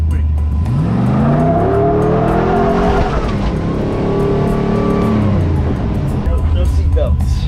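LS3-engined Jeep driving on a test run, its engine revving up and down with rising and falling pitch and a brief tire squeal, loud and close throughout while people talk over it.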